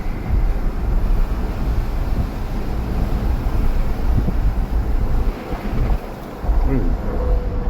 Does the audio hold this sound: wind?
yes